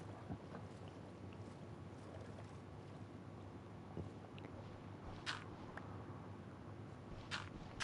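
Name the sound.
boat moving through water in a video game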